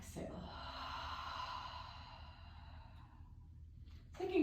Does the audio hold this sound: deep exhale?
yes